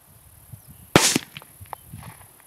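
A single sharp crack from a Savage 93 .17 HMR rifle fired at a woodchuck outdoors, loud and close, followed by faint field ambience and small rustles.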